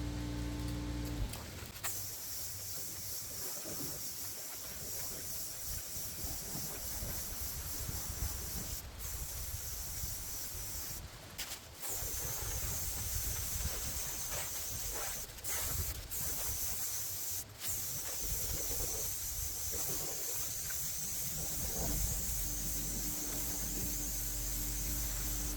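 A Harbor Freight paint spray gun run on compressed air sprays paint at low pressure, a loud, steady, close hiss that lasts throughout with only brief breaks, and no voice.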